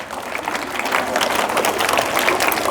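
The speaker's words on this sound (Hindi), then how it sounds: "हाँ चलो ताली बजाइए भाई इसके लिए" An audience claps at a school ceremony for half-yearly exam results, a dense, loud, sustained round of applause from many hands, with no talk over it.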